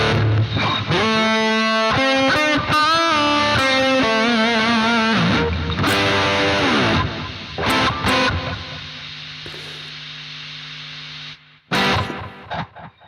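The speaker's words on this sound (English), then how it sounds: "Some delay." An electric guitar plays through the Nembrini Jazz Chorus amp app with delay, giving quick distorted runs and chords whose echoes trail off. A sustained note lingers, then cuts out, and a few last plucked notes follow.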